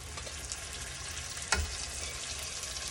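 Tomatoes sauté in a pan for pav bhaji, a steady frying sizzle running throughout with one brief louder clack of a spoon or spatula midway.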